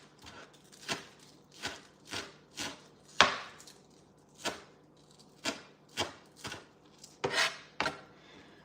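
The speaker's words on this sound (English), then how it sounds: "Got some green onion. Actually, I may as well just finish chopping this" Knife chopping green onion on a cutting board in a home kitchen, a steady run of about fifteen crisp, close chops at an even, slightly uneven rhythm, heard alone with no talking.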